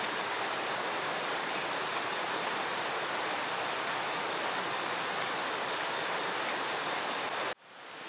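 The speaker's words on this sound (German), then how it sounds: "So, wir sind hier an diesem Wasserfall, Quebrada Valencia." The Quebrada Valencia waterfall roars in a steady, loud, broadband rush that fills the scene close at hand, then cuts off abruptly near the end.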